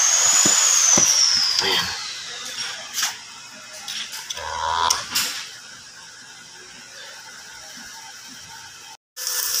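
A GYS inverter arc welder strikes up at 200 amps with a harsh crackling buzz that starts loud and sputters in bursts before dying away. Someone speaks briefly near the end.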